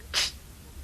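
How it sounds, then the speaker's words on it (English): Big Fat Pusscat, a lazy, sleepy cat in a children's story, gives one short, breathy sneeze, a quick faint hiss of air that fades almost at once. "sneezed Big Fat Pusscat."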